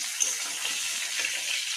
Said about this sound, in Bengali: ফুলকপি আর আলুটা ভালো করে লাল লাল করে ভেজে নেব